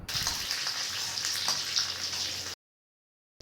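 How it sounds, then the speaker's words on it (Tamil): Dried red chillies and curry leaves crackle in hot oil for a South Indian tempering meant for idli sambar, a bright continuous sizzle with small pops that cuts off abruptly into silence. "ஃப்ளேவருக்காக ரெண்டு காஞ்ச மிளகாய் போட்டு ஒரு கொத்து கருவேப்பிலை போட்டு தாளித்து எடுத்துக்கலாம்"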